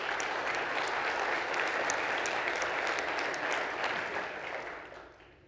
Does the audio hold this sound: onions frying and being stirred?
no